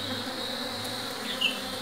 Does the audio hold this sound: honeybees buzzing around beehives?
yes